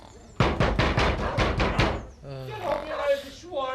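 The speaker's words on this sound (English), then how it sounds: "I spent half the morning banging on that door" A rapid series of about seven loud, heavy knocks on a door, evenly spaced, followed by a voice speaking.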